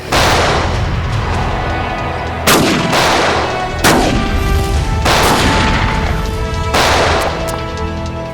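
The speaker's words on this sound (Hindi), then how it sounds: "नीटा भून डालो ने।" Heavy gunfire in a TV crime drama shootout, a dense continuous barrage of loud shots with several sharper, louder blasts standing out at irregular intervals, close and dominant throughout with no voices.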